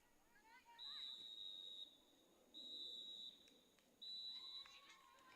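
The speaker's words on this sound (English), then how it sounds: "And that's going to be the final 3 whistles." A referee blows the three final whistles at a freshman girls' soccer match between Brookline and Weymouth at Cypress Field, three sharp, shrill blasts with short pauses between them, clear against faint crowd background.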